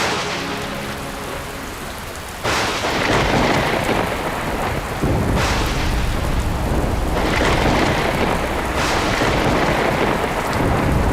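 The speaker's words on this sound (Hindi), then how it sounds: "ये वर्षा तो रुकने का नाम ही नहीं ले रही।" Heavy rain pours steadily while loud thunder cracks and rolls several times, each burst crashing in over the constant downpour, with no voices.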